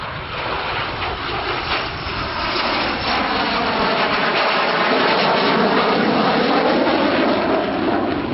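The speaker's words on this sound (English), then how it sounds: "we have the Phantom coming in, I believe, from our left" An F-4 Phantom jet from 43 Squadron approaches at a 1986 West Malling air show in England, a broad roaring engine noise that swells steadily and grows louder and closer throughout.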